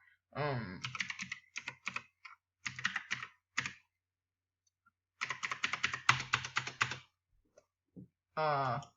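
Password keys tapped on a computer keyboard come in quick bursts of clicks separated by short pauses, close and crisp, with no voices between the keystrokes.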